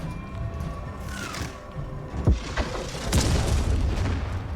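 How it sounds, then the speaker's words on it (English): A deep boom from an explosion in the video game The Outer Worlds 2, rumbling low with a couple of sharp cracks and a rising roar afterward, set against a steady ambient hum. "That explosion. Wow, damn, what was that?"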